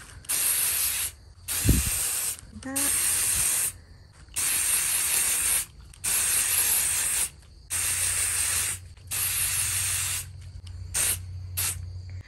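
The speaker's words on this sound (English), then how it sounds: "So we're gonna go ahead and just spray it down now." Water-repellent protector sprays onto black Converse sneakers in about eight loud, hissing bursts, each lasting roughly a second, with short pauses between them and a brief spoken remark early on.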